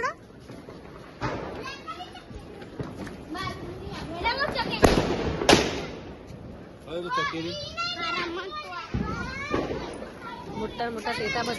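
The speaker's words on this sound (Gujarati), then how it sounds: "બધા ફટાકડા ફૂટે જાય ફટાફટ ફટાફટ ફટાફટ ફટાફટ" Diwali firecrackers go off at night in Visnagar, scattered pops with two louder bangs mid-way, while children shout and chatter excitedly throughout.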